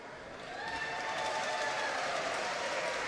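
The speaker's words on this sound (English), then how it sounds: "Crowd applauding" Spectators applaud at a curling match, the 2013 World Mixed Doubles Championship final between Sweden and Hungary, a steady broad wash of clapping that swells in the first half second and then holds evenly.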